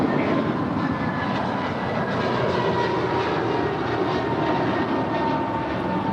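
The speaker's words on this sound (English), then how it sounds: "That's American 31 to Honolulu. It's a 1-year-old A321neo." A one-year-old American Airlines Airbus A321neo departing LAX for Honolulu, a loud continuous jet engine roar with low rumble, steady throughout and close, no voices.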